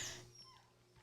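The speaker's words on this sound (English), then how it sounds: "we have another dog, and you can hear him in the background." A dog whimpers faintly in the background with a few high, thin whines and soft yips against a quiet room.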